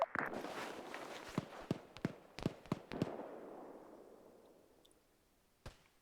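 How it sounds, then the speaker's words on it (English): Repeated sharp gunshots crack in the distance to the south during an outdoor operation, one after another with no fixed rhythm, each trailing a rumbling echo, and a last lone report comes after a pause. "I'm hearing shooting to the south"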